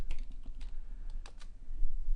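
Computer keyboard typing while a header is entered into a spreadsheet cell: a quick run of light, irregular key clicks with short gaps, close and clear, no speech.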